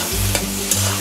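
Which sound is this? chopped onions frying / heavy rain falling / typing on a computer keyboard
chopped onions frying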